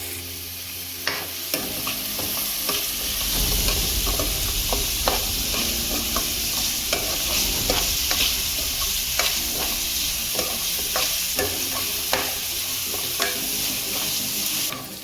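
Onions frying in oil until brown for a mushroom curry, a steady loud sizzle with occasional stirring scrapes and clicks throughout, no voices.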